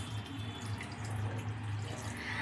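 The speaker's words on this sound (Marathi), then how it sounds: "ह्यामध्ये थोडंसं वरतून पाणी टाकते मी." Water is poured from above onto salted paneer in a home kitchen, making a soft, steady trickle that runs quietly and unbroken the whole time.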